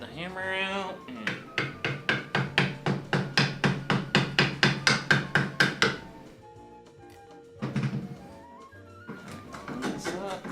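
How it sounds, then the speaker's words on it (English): Hammer blows drive into scrap wood while a shelf is built, about eighteen sharp, evenly spaced strikes in a steady rapid rhythm, close and loud, followed by a few softer knocks and handling sounds. "get the hammer out and..."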